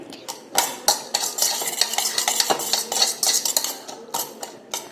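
Food mixed by hand in a bowl in a home kitchen, with irregular scraping, clinking and squelching strokes up close, moderately loud and continuous with short pauses.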